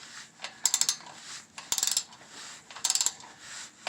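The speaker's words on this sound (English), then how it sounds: "So here I am tightening the last bolt, if I can keep my socket on there." A socket ratchet tightens the last bolt on a Tacoma skid plate, giving three separate bursts of quick metallic clicking. Each burst is close and crisp, with soft handling noise in the pauses between them.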